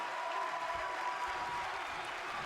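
Crowd at a live wrestling academy event applauding steadily, a dense, sustained wash of clapping and cheering with no break across the moment.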